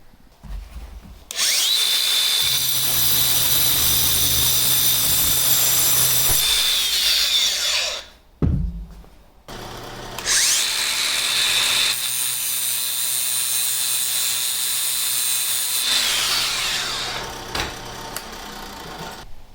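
A power drill bores holes through clamped stock in a workshop, running at a steady high whine in two long bursts of several seconds each, with a brief clunk and pause between them.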